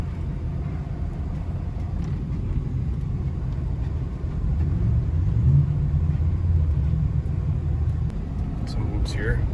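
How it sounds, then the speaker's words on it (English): Steady low engine rumble from a 2023 Ford F350 Tremor pickup truck running offroad over whoops at about 30 mph, swelling slightly partway through as the truck bounces along, with voices talking inside the cab. "Some whoops here, going 30 mile an hour."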